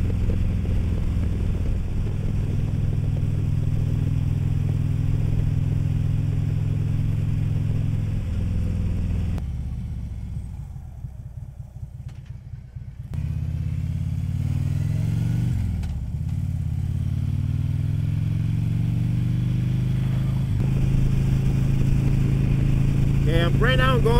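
A motorcycle cruising at 70 fitted with a Klock Werks windshield, helmet visor down: a steady roar of wind drag over a low engine rumble, easing off briefly midway before the rush returns.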